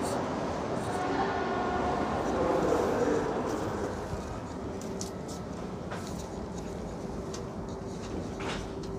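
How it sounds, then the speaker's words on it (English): Inside a Shinkansen bullet train between Tokyo and Gala Yuzawa, a steady broadband rumble of the moving carriage fills the scene, with faint clicks and knocks from the cabin over the continuous hum. "Ito yung aming Shinkansen na sasakyan from Tokyo to Gala Yuzawa."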